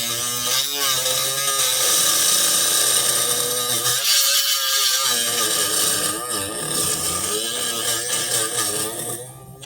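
A multipurpose all-in-one drilling tool runs with a loud, steady high-pitched electric whine, cutting out briefly before continuing at a higher speed.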